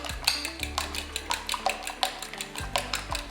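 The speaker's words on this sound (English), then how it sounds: "So you have your eggs in there, you just beat it. Mix it up real good." Eggs being beaten in a bowl for an Italian lasagna, with a utensil clattering against the bowl in quick, uneven strokes, close and fairly loud, with no talking.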